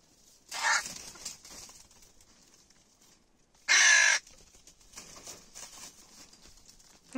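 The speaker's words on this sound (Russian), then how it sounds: "Вот у меня теперь такая флисовая ворона." A crow wearing a fleece jacket caws outdoors near a forest road, giving loud, close harsh calls in short bursts, with quieter rustling between them and no talk.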